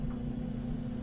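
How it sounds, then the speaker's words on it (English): A clothes dryer, freshly oiled to stop a screech, runs with a steady low hum and rumble for a brief moment, and no squeal or voices are heard. "Now we can turn the dryer back on."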